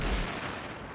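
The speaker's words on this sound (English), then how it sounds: "That was an artillery shell" An artillery shell strikes in the World of Tanks video game, a heavy booming impact with a low rumble that fades over about a second, loud and close.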